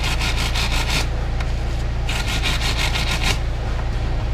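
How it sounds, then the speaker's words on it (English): Threads of hand plane bolts from a Stanley Type 20 No. 4 being cleaned with a brush, giving loud, rapid scratchy rubbing strokes in two bursts over a steady low motor hum. "Mostly just cleaning the crap out of the threads."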